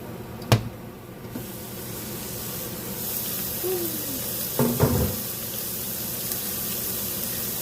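Cooked ground meat for a broccoli casserole is tipped and drained, with a sharp clank near the start, then a soft steady hiss of liquid and a couple of brief clatters partway through.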